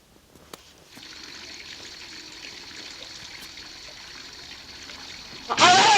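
Running water from a tap flows in a steady, soft hiss after a quiet start, then a louder burst of noise cuts in at the very end.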